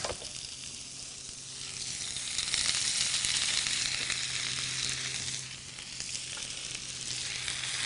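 Onions hit hot oil in a pan and sizzle with a bright, steady hiss that swells and eases in waves, close by and without talk.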